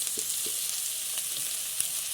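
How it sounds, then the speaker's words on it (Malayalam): Chopped onions and green chillies frying in oil in a pan while being stirred, a steady soft sizzle with a few faint scrapes of the spoon, no voices. "ഇനി സവോളയും 1-2 പച്ചമുളകും കൊണ്ട് ഞാനിവിടെ അരിഞ്ഞ് വെച്ച് ഇട്ട് കൊടുക്കുകയാണേ. എന്നിട്ട് നല്ലതായിട്ട് ഇളക്കി കൊടുക്കുക."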